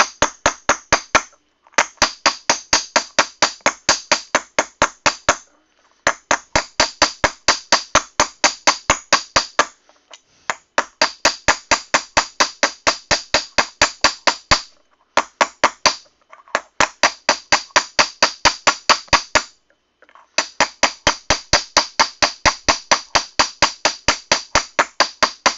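Sheet metal is hammered during dishing and planishing in a workshop, heard as fast, evenly spaced metallic blows that come in long loud bursts separated by short pauses.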